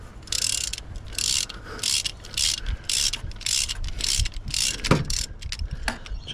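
A hand ratchet clicks in rapid repeated bursts, about a dozen strokes with short pauses, close and loud, while removing a throttle cable bracket on a Holden VY Ecotec engine, with an occasional clunk of metal.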